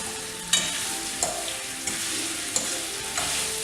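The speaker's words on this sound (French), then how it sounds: "Je bouge ma poêle dans tous les sens, que l'huile puisse passer sous les cuisses." Duck legs frying in oil in a pan, a steady loud sizzle with regular sharp knocks every half second or so as the pan is shaken in all directions, no talking.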